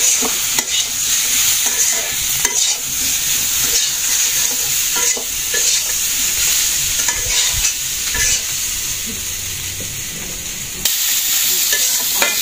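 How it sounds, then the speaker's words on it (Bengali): Vegetables sautéing in a pan with turmeric, chili and coriander in a village kitchen, a steady close sizzle and frying hiss with repeated stirring scrapes throughout, no talk. "হলুদ আর মরিচ দিয়ে দিলাম একটু, আর একটু ধনে দিয়ে দিলাম, আর একটু কষায় আনি"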